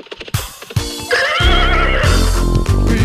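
A horse neighs loudly and close by in a long, shrill whinny, with a few hoof clip-clops at the start and low rumbling underneath.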